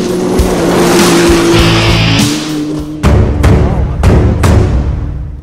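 Quad bikes and odd grasshopper-like cars racing in a rally, loud engines roaring continuously with several sharp bursts of acceleration toward the end; no speech.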